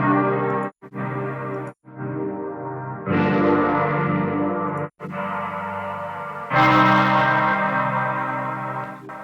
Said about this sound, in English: Another plugin I really like, Thermal Super Fire, like a creative distortion plugin.